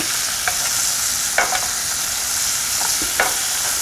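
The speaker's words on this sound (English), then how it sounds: "we're going to let that get frothy, and we're going to use that to baste this" A skate wing fries in frothy butter in a pan, a loud steady sizzle and crackle with occasional spoon scrapes and spatters as the butter is basted over the fish.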